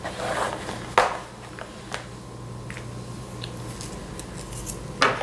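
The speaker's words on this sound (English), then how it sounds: "Look at my scissors, guys." A few sharp metallic snips and clicks of scissors, spaced about a second or more apart, close and quiet against a low hum.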